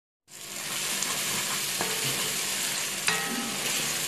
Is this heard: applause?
no